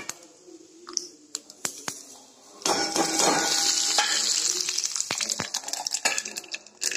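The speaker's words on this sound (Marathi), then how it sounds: "आता तीळ पूर्ण हे झाले ना, फोडणी आली तिळाची." Sesame seeds sputter and crackle in hot oil for a tempering, first as scattered sharp pops, then a denser close sizzle with continuing crackles and a few utensil clinks.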